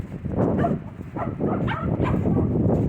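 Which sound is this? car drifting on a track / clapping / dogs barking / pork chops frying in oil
dogs barking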